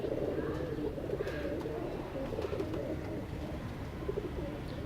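A female Shikra Firozpuri pigeon gives soft, low, repeated cooing close by, steady over a dull background hum. Faint human voices can be heard now and then.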